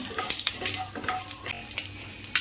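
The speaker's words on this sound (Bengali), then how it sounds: "এখানে আমি 5 ফোড়ন দিয়ে দিলাম" Panch phoron spices hit hot oil in a pan for a Bengali fish head and cauliflower curry, crackling and popping in sharp irregular bursts over a steady close sizzle.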